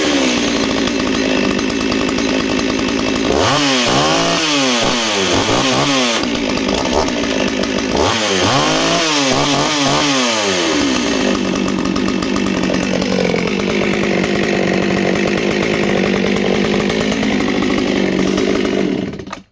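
A loud Echo CS-60S chainsaw engine runs continuously, its pitch swinging up and down in repeated revving bursts before settling into a steady, smoother idle near the end.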